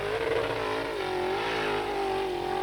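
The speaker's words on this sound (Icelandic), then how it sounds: "hlustuði nú á hljóðin í vélinni hjá Gísla." A racing car engine from a 1999 Jósepsdalur race holds a steady high-revving drone with slight pitch wobbles, loud and continuous, with no talk over it.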